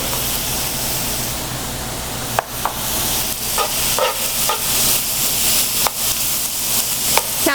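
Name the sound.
food browning and sizzling in a pan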